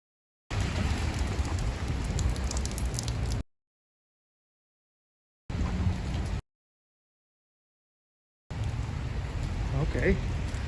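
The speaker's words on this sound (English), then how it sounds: "Temporary, the rain is over." Rain hisses steadily on a St. Petersburg street near Lomonosov Square, a broad loud wash that cuts out abruptly and returns in separate bursts.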